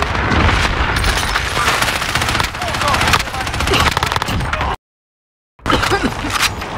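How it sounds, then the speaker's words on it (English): Dense, loud gunfire and explosions from a precision airstrike in a Call of Duty match roar almost continuously, broken by a brief dropout of silence, with voices talking underneath. "Be advised, friendly precision airstrike inbound."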